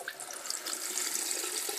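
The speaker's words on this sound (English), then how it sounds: "I'm just putting a little bit of cold water into it so I can touch it because it was quite hot before" Cold tap water runs into a bowl being readied for Carefresh small-animal bedding, a steady, close splashing hiss that continues without pause and with no talk over it.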